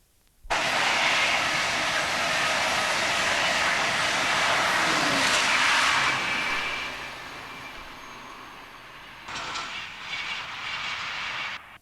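Two trains rumble northwards past a closed, boarded-up signal box near Sutton cum Lound on the Newark to Doncaster line, a loud sustained roar that fades, then a second train rushes through closer toward the end.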